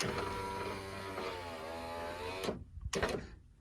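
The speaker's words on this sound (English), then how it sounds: "let's load this window right here" The power window motor on a Toyota Celica's front door whines steadily as it lowers the glass, ending in a couple of short thumps and clicks close by.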